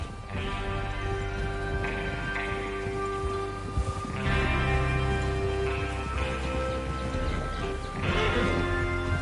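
Horses whinny and neigh over a steady bed of hooves and ambient noise, with several calls rising every few seconds, in the video game Red Dead Redemption 2.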